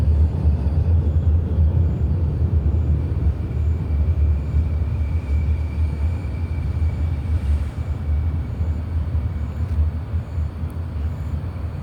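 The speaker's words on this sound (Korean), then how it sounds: "늦은 시간에 전철이 들어왔습니다." Late-night subway train arriving, a steady low rumble that fades slightly over the span, with a faint high whine and no voices.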